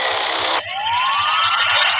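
A police jeep siren wails loudly and close, a harsh burst cutting to a rising electronic sweep that swells and holds, heard alone without voices.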